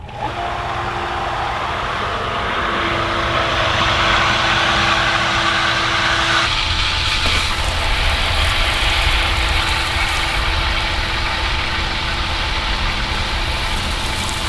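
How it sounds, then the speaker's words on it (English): A garden water pump for an organic fertilizing system starts up and keeps running, a loud steady motor drone and hum that shifts in tone partway through, with no talking. "Let's go ahead and start our pump."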